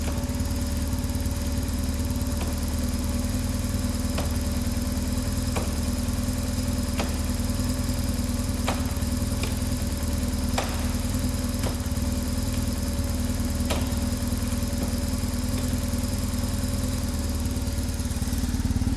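A BMW GS motorcycle engine idles steadily after a gear position switch repair, a close, constant low throb with even mechanical ticking and occasional faint clicks over nearly twenty seconds.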